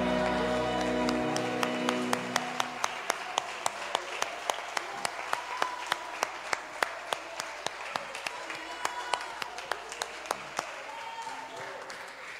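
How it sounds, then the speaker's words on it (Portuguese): A church congregation claps along in a regular, even beat, crisp strikes repeating for several seconds and then thinning out. A preacher's voice is heard at the start, and the clapping stays moderately loud and close. "aplaude o Senhor Jesus o mais forte que você puder"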